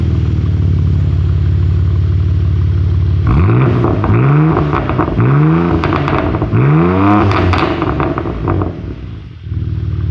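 A BMW G80 M3 with an M-Performance exhaust idles loudly in Sport Plus mode, then revs sharply three times in quick succession, each rise and fall of the exhaust close and aggressive.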